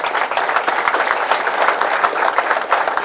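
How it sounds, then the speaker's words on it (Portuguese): Audience applause at a debate on Brazilian tax reform, a steady even wash of clapping from a moderate crowd that runs throughout at fairly constant strength, with no speech over it. "uma salva de palmas para ele"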